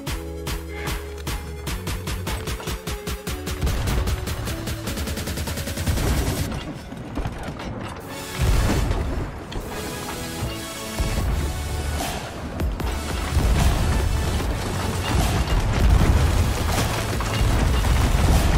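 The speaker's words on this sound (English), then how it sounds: "Let's get on right side cannons." Ship cannons on a galleon in Sea of Thieves fire in a long, heavy barrage, dense booms and blasts overlapping close and loud, in bursts that keep building with little pause.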